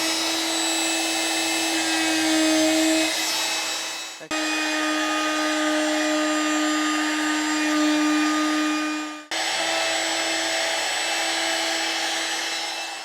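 Power tool, likely a router, cutting a 1/8 inch radius along a workbench edge: a loud, steady high whine running in three long passes with brief pauses between them.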